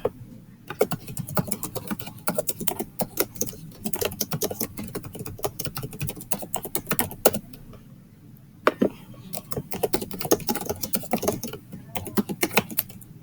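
Computer keyboard typing in quick bursts of clicky keystrokes with short pauses between runs, close and clear with no talking.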